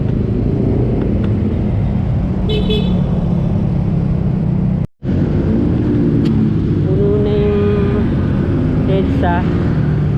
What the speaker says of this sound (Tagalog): Ayan, traffic ulit.